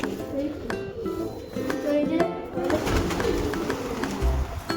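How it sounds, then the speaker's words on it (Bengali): A rescued pigeon coos softly and repeatedly while being released outdoors, with people talking throughout and the cooing heard close by beneath and between their voices. "দেখাও পায়রাটা, দেখাও সবাইকে।"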